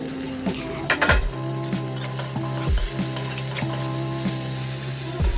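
Beans, carrot, cashews, raisins and capsicum stir-fry in a pan with a loud steady sizzle, while a spatula scrapes and taps the pan at regular intervals.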